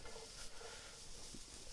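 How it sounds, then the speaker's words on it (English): Moisture from mushrooms and onions hissing in a hot pan, a faint, steady broadband sizzle with no talk. "That is the sound of more moisture hitting the pan."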